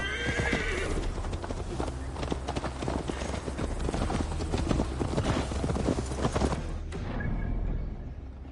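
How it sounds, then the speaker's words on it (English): In the Assassin's Creed Valhalla video game, a horse whinnies loudly, then its hooves clip-clop steadily on a ride, close and prominent, with a faint voice and game ambience behind. "Mount up, Eivor. It's a long ride to Tamworth"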